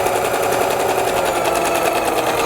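A sewing machine stitching red thread through fabric, a steady fast rhythmic whirring hum with rapid needle clicks, close and continuous, no talking.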